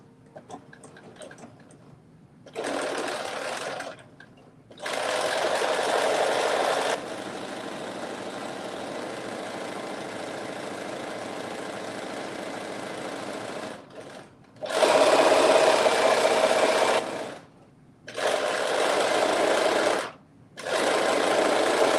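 Sewing machine stitching a sleeve seam on a garment, running in several loud steady bursts of varying length separated by brief pauses, close and alone.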